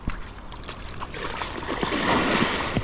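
Water splashes around a swimmer in deep water on a fishing outing, with irregular close sloshing and splatters building over a steady watery background.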